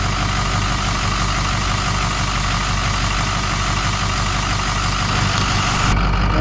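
Steady, loud idle of a 2007 Ford 6.0 diesel engine running with the turbo unplugged, a dense continuous rumble and clatter with no change in pace, cutting off abruptly at the very end.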